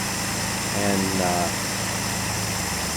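A 1935 SS1 Jaguar Tourer with an overhead valve engine runs at a steady idle, a constant engine drone as someone speaks briefly over it.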